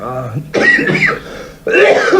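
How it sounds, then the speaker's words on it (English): A person coughs and clears their throat in two close, loud bursts, with a brief voiced sound just before. "Nice natural cough makes things sort of relax there, down to earth."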